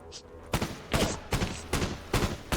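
Gunfire in the shooter game Code of War rattles out as six loud, close bursts of rapid shots, each roughly a quarter second long, separated by brief gaps.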